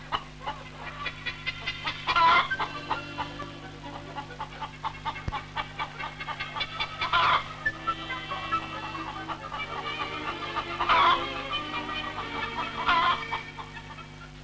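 Pedigree laying hens in trap nests on a poultry farm give scattered clucks and occasional louder squawks over a steady low hum, with soft background noise throughout.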